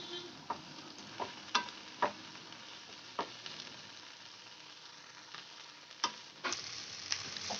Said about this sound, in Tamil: கைவிடாமல் இந்த மாதிரி கலந்து விட்டுக்குங்க.